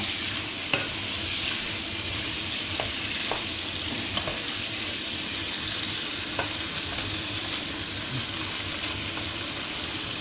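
Halved wood pigeons fry in a pan with a close, steady sizzle, punctuated by occasional light clicks and scrapes of stirring.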